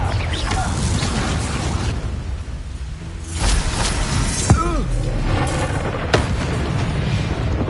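A Confringo blasting spell goes off in Hogwarts Legacy, a sharp booming burst that lands mid-clip against dense game music and effects, with a second crack shortly after.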